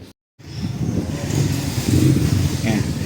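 A Honda X-ADV 750 fitted with upgraded front fork springs and Ohlins fork oil is ridden close by, its engine a steady, loud droning roar that swells slightly, with a voice partly audible over it.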